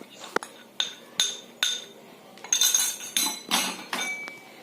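Metal utensils clink sharply against a bowl or pan, about eight distinct strikes at a loose, uneven pace while roasted spice masala for bharela sabji is mixed, close and fairly clear with no talking.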